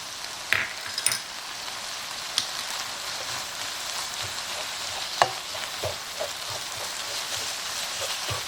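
Shredded carrots and coriander seed fry with meat in a pan, giving a moderate crackling sizzle with scattered spatula taps and scrapes against the pan.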